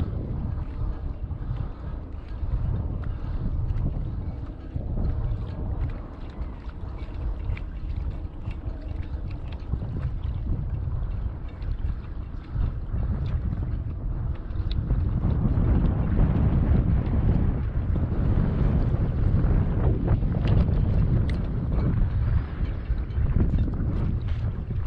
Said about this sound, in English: Especially with the wind as well, the wind's pushing from my left to my right.